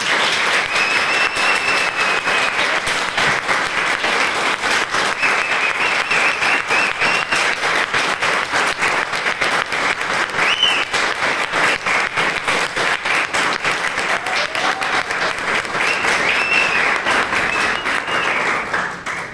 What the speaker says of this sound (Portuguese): Recebam os aplausos que vocês merecem.